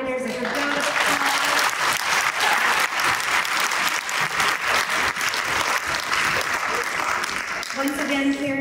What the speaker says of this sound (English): Let's give all of our winners a good round of applause.